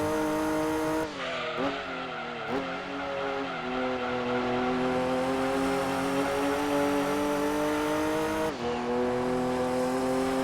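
A Lotus Esprit races in Gran Turismo 2 on the PlayStation, its synthesized engine holding a loud, steady high drone with brief dips and gear-shift drops, plus moments of tire squeal.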